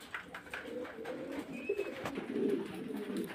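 Fancy pigeons coo softly at a pigeon farm in Faridpur, several low throaty calls overlapping at close range, fairly quiet against a light background of rustling and ambient noise.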